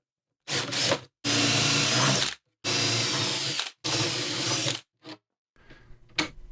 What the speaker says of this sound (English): I drill all the way through the top part and a tiny bit into the frame below it